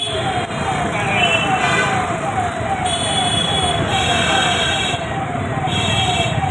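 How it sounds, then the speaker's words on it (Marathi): A minister's car siren wails in repeating rising and falling cycles in Pune traffic, fairly loud against traffic rumble, with people talking nearby. "हे बघ सायरन वाजवते गाडी महाराष्ट्र असन"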